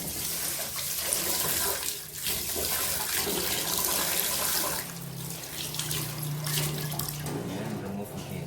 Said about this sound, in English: And then wash again.